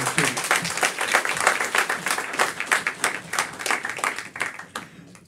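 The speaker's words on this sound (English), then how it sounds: "one more round of applause for our students" Audience applause for student performers at the Delaware Valley Friends school showcase, a dense, steady round of many hands clapping that swells and then tapers off toward the end.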